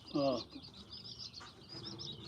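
Baby chicks chirping softly, a few faint high peeps in quick succession, quiet and close, with a brief louder call near the start.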